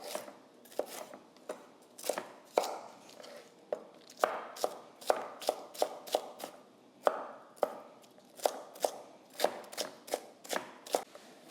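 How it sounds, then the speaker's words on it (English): A kitchen knife dices vegetables into corn-kernel-sized pieces for relish, giving a close run of quick, uneven chops on a cutting board. The taps come in short bursts with brief pauses, and no one speaks. "So I'm dicing these about the same size as a corn kernel, so everything is about the same size going into the relish."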